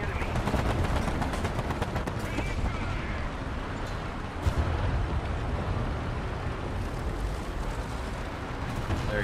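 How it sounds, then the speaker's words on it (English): Dense, continuous gunfire and battle noise from a War Thunder tank match, with rapid machine-gun bursts layered over a steady low rumble throughout, one sharper blast standing out midway. "Hold your machine gun fire for half a second,"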